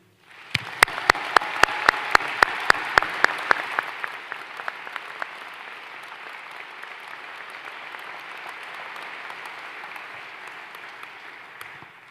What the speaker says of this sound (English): Let's have another round of applause for the new alumni.